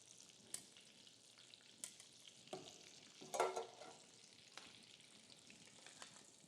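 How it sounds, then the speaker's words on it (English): Potatoes seasoned with salt and pepper sizzle and sear in a pan, a quiet, steady frying crackle with scattered sharper pops and a brief louder burst of spitting midway. "You can hear that sizzle, so they are starting to sear a little bit."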